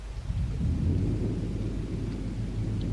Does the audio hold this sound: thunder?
yes